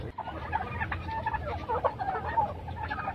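Black turkey gobbling, a rapid rattling burst of calls that rolls on for several seconds at close range over a low rumbling background on an Egyptian turkey farm.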